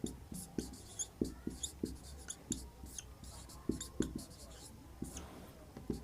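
A pen writes a definition on paper, close and quiet: rhythmic scratchy strokes and taps in short irregular bursts throughout, with no voice over them.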